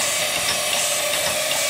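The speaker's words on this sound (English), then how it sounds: "This is the first time that it's actually operated on steam" A small engine running on steam from a flash steam generator gives off a continuous loud hiss with faint rapid mechanical ticking underneath, steady throughout with no talking.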